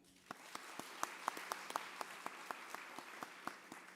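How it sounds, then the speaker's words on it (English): An audience at a county government address gives a round of applause for a presenting sponsor, Town Bank; a steady wash of many hands carries sharp, distinct claps and a low tone running beneath it. "extended applause for today's presenting sponsor"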